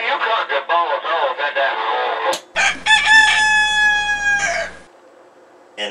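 Over radio static from a DX-160 receiver, after a talking voice, a man imitates a rooster's crowing with a loud, drawn-out, tonal cock-a-doodle-doo call that breaks off into near silence.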